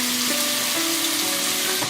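Chicken thigh pieces fry in hot oil for a stir fry with vegetables, giving a steady, close, even sizzle with faint clinks of a spatula against the pan, and no voices.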